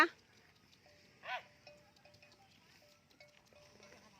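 A herd of water buffalo is outdoors in hot weather, with a faint low call, a few soft animal sounds and a light ringing tone repeating in the distance.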